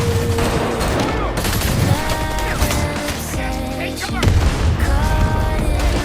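Rapid bursts of gunfire and heavy booms layered with dramatic music in a film battle between elite soldiers and a Mexican drug cartel in a jungle, loud and sustained throughout.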